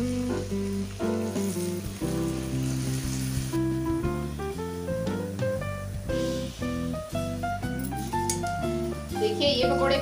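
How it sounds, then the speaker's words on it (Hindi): Potato pakoras fry in hot oil with a soft, steady sizzle running throughout, partly masked by a voice talking over it. "देखिए ये पकोड़े भी हमारे फ्राई अच्छे से हो चुके हैं"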